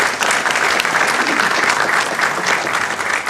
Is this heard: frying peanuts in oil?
no